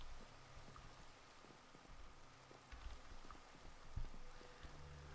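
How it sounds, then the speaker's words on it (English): Rain falls steadily in the Minecraft modpack Sky Factory 4, a soft continuous patter with scattered drop-like taps and no talking. "It's raining!"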